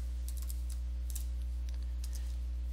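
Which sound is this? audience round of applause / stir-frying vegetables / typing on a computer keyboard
typing on a computer keyboard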